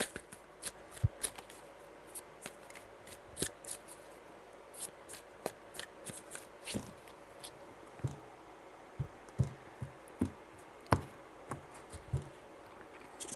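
A tarot deck shuffled by hand, giving a long run of soft, irregular card taps and flicks over a faint hum, quiet and close, with no voices.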